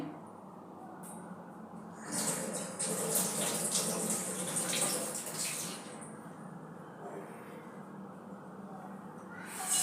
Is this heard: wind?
no